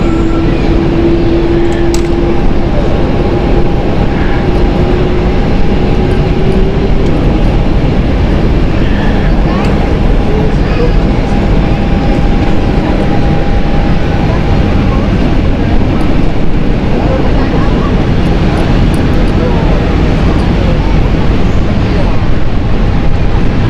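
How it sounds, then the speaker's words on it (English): A TUI Boeing 787 airliner departs Amsterdam Schiphol Airport, heard as a loud, steady, continuous jet roar that holds for the whole stretch, with a thin tonal whine running through it and talk over it. "That beautiful TUI is just departing."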